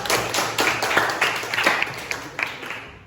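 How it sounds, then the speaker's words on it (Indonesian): A small group claps in a classroom presentation session, a brief round of uneven, distinct hand claps with audible individual strikes that thin out over about three seconds. "Tepuk tangan dulu."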